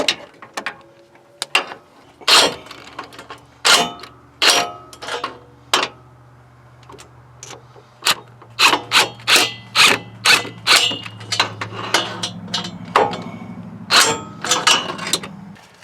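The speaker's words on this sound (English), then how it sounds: "We're just gonna run them in and then torque them down." Header bolts on a Nissan Titan's JBA longtube headers being run in and torqued to 25 foot-pounds with a ratchet, producing repeated sharp clicking bursts in quick rhythmic runs, close and fairly loud, with no talking.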